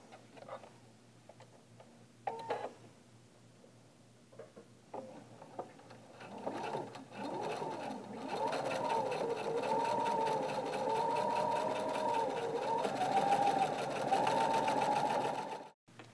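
A sewing machine stitches a quarter-inch seam joining a silver and gold gift bag top to its body, starting with a few short bursts and then running steadily and close for about eight seconds before stopping.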